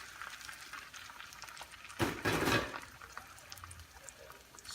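Eggplant omelette (tortang talong) sizzling in a frying pan, a steady soft frying hiss with a louder burst of sizzle for about a second midway, no talking.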